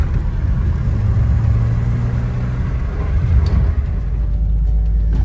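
BMW E30 325e car driving, a loud, steady engine rumble with road noise heard from inside, holding an even drone before easing slightly near the end, no talking.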